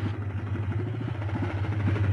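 Motorcycle passing by, its medium engine puttering with a steady rapid pulse, close and fairly loud throughout a short stretch.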